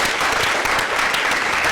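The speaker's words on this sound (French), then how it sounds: "On l'applaudit très fort." An audience applauds loudly, a dense, continuous wash of clapping with no pauses.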